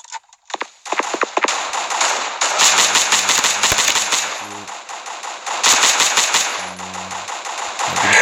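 Rapid automatic gunfire from the mobile shooter Guns of Boom, loud bursts of rattling shots with short pauses between them and a few single cracks, with no voice over them.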